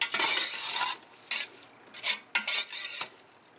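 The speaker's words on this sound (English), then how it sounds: "You want to keep it stirring because the one thing you don't want to do is you don't want to burn the garlic." A utensil scrapes and stirs onions and garlic sautéing in a pan for potato soup, in irregular bursts of scraping with short gaps between, close and fairly loud, with no voices.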